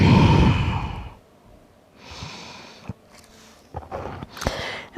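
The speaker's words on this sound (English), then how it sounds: "One more breath here." Slow breathing during a yoga class in child's pose, a long loud exhale at the start, then quieter breaths with soft rustles and small clicks, close and unhurried.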